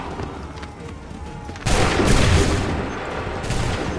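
A musket volley in Assassin's Creed 3 erupts suddenly after a quieter stretch, a loud ragged blast of many shots at once followed by a lingering rumble and scattered reports.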